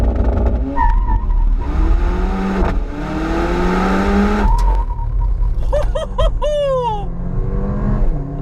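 Mercedes AMG GLA 45 launching hard under launch control, engine roaring loud and close with rising revs through several gear changes, ending in a sharp upward rev sweep.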